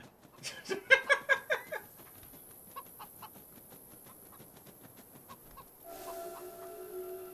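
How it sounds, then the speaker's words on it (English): A video game chicken clucks in a quick rapid run of close, loud squawks that trail into sparse softer clucks, followed by a faint electronic tone. "we're just chasing a chicken now, apparently"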